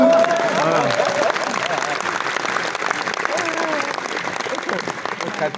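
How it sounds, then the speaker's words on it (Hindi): A poetry-festival audience claps loudly and steadily throughout, a dense wash of applause with a voice rising over it near the start and again in the middle. "अब हाथ खड़े करो और जोरदार तालियां बजाओ।"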